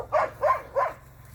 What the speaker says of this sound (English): That's the neighbor's dog barking.